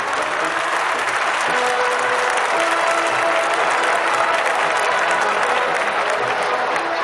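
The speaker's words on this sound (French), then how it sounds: "où la foule acclame longuement son héros" A large crowd at the 1968 Prague May Day parade cheers and applauds at length, a dense, steady roar of clapping and shouting that never lets up, with a few sustained whistles or calls rising above it.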